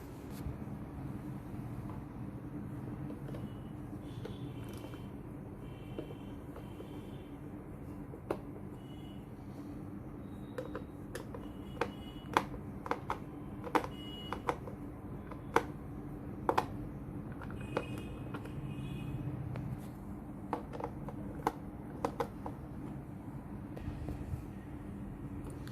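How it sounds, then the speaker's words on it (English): A small screwdriver removes the screws holding a laptop keyboard, giving faint scattered clicks and light metallic ticks, some in quick clusters, over a low steady room hum. "So now for the keyboard to open, we need to unscrew all these screws."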